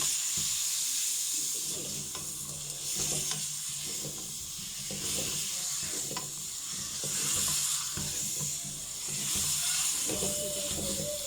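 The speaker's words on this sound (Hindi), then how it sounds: "ये चिकन को फ्राई कर लें थोड़ा" Chicken pieces frying in a pan for chicken karahi, a continuous sizzle with periodic stirring scrapes, moderately close and steady.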